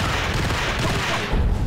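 Enemies firing guns in the video game Max Payne, a brief, loud, continuous wash of gunfire with a heavier thump at the end.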